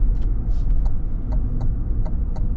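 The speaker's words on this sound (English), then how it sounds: "that is probably the best sounding exhaust in 2025 so far." A 2025 Cadillac Escalade V supercharged V8 rumbles low and steady at close range, with a deep, throaty exhaust note and a few faint clicks riding on top.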